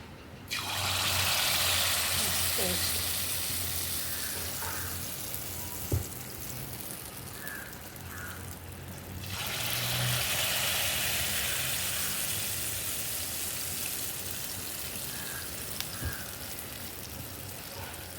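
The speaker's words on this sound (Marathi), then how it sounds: "तेलामध्ये सोडायचं याला इकडे तेल मी गरम केलेलं आहे ज्यामध्ये हे गुलगुले सोडले" Wheat flour gulgule, sweet fritters, frying in hot oil: a steady sizzling hiss with fine bubbling that swells in two long stretches, close and fairly loud, with no talking.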